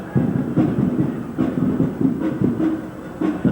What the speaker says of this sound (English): the first two-car train has just arrived at Del Amo station on the way to Long Beach